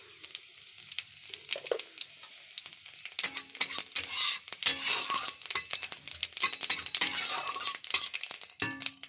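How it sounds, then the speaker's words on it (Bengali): Cumin seeds sizzle and crackle in hot oil in a home kitchen, starting quiet and then building into steady frying with sharp pops and the clink of a ladle against the pan. "জিরেটা ফুটতে থাকুক"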